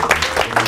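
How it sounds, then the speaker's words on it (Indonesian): A burst of audience applause, dense close clapping heard at fairly high level for under a second with no talk over it. "Tepuk tangan semuanya."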